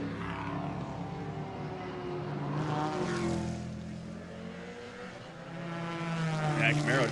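Trans Am race cars, including a Ginetta, a Porsche and a BMW, roar around the Mid-Ohio Sports Car Course, engines rising and falling in pitch as they pass, with commentators talking over the steady racing noise.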